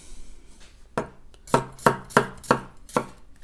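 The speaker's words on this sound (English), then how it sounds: "So I'm just going to slice it up and give it a little mince here" A knife slices a garlic clove on a cutting board with a run of about seven crisp, close taps that come faster and settle into an even rhythm.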